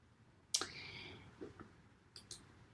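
A computer mouse click sharply marks the start while someone works in Microsoft Word, followed by a couple of fainter clicks later, all quiet and close against a low background hiss.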